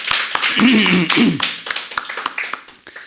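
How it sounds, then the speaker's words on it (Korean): A church congregation claps to welcome a newcomer, with short scattered claps heard under a voice talking nearby. "저기 박수 한번 쳐드릴까요?"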